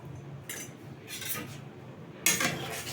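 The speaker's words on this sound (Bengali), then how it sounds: "ভালো করে নাড়িয়ে দেব" A utensil stirs a tangra fish curry with potatoes in a pot, giving three short metallic scrapes and clinks, the last one the loudest, over a quiet background hum.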